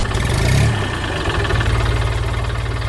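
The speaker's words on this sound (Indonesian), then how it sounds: "Traktor merah sedang membawa jerami ke tempat yang sudah disiapkan. Suara mesinnya menggelegar" A red tractor hauling hay roars with a loud, steady engine drone close by, with no voices over it.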